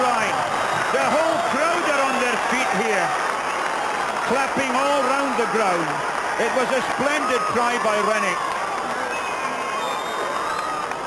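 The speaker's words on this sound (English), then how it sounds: "The whole crowd are on their feet here, clapping all round the ground." Rugby crowd at the Hawick Sevens, 1994, clapping and cheering all round the ground after a counter-attack try, a steady dense roar throughout with a commentator talking over it.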